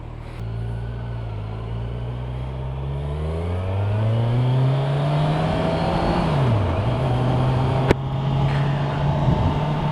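A Kawasaki Z1000SX sport-touring motorcycle engine revs and pulls steadily while riding, its rising and dipping drone loud and close, with a short dip in pitch partway through and no talk.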